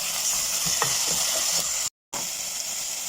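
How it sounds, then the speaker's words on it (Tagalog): Chicken macaroni soup with chicken cubes, salt and black pepper stirred in a pot, a steady close bubbling, scraping sizzle with a few soft knocks and a brief dropout of sound partway. "So haluin."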